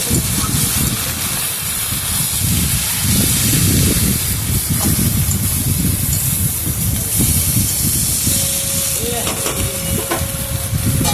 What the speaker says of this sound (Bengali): ঝিঙে আর বেগুনটা দিয়ে সবজির সঙ্গে ভালো করে মিশিয়ে মিশিয়ে দেবেন